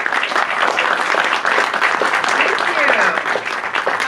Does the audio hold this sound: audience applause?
yes